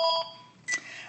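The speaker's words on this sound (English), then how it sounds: "Oh, there's my other phone line ringing." A second phone line rings briefly in a home office in Arizona, giving a short electronic tone burst, a pause, then another bright ring pulse, close and clear with no talk over it.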